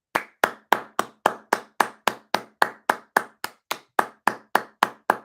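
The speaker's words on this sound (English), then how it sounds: "If we clap, maybe if we clap a little bit louder, it's going to help the nurses." Evenly paced claps in support of NHS nurses, about eighteen sharp, close hand claps in a steady rhythm with short silences between them and no voices.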